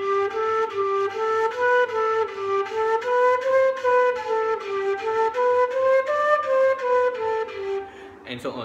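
A single melodic instrument plays a stepwise major-scale exercise, rising and falling note by note in a do-re-mi-fa-mi-re-do pattern, clear sustained tones at moderate volume, ending with a short noisy bump.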